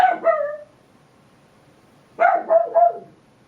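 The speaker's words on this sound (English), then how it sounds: "dog barks when somebody's outside" A pet dog indoors lets out one short bark, then a quick burst of three or four barks after a pause, loud and close.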